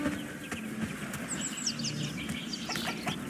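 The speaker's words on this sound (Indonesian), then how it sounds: "Ayam kita juga." Chickens cluck and chirp on a farm in the video game Bellwright, with scattered short calls and high peeps over a low ambient hum, moderately close.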